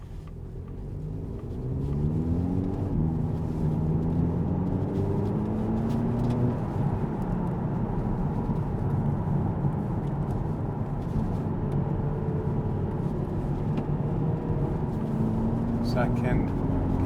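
Audi TT 2.0 TFSI S tronic quattro coupe engine rumbles steadily inside the cabin while gears are changed manually, with rising engine tones dropping at each shift and a person talking over the drone.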